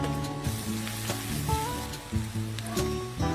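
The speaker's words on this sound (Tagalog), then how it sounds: "Simulan na ang mabangong paggisa ng bawang at sibuyas" Garlic and onion sautéing in butter give a steady, crackling sizzle that runs under prominent background music throughout.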